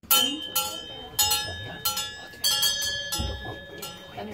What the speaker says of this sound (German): dann hören wir nämlich, dass das unterschiedliche Glocken sind und jede Goss hat ihre eigene Glocke